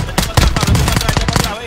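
Rapid bursts of automatic gunfire from the video game Warzone 2 in a Resurgence match, loud and near, with several volleys in quick succession and faint voices underneath.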